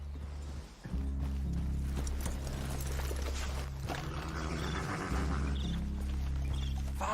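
Horses' hooves clip-clopping in the video game Red Dead Redemption 2, a steady run of close hoofbeats with a low rumbling mechanical hum beneath, continuing throughout without speech.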